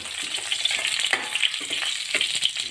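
Dried red chilli, bay leaf and cumin fry in hot oil while being stirred, a steady close sizzle with scraping stir strokes throughout, no talking.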